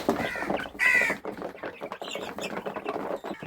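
Chickens cluck and call nearby in short bursts, with one louder squawk early on and softer clucking continuing afterward.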